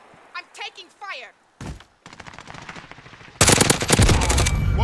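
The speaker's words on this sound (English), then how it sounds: "I'm taking fire." Gunfire in the video game Call of Duty: Modern Warfare comes after brief speech as a rapid burst of automatic fire and then a loud, dense barrage of shots close by.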